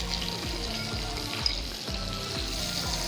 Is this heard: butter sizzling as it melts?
yes